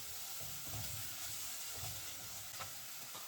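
Black pepper, cumin and curry powder being stirred together in a hot pan, giving a steady soft sizzle with scraping strokes of the spoon that swell now and then, close by and without talk.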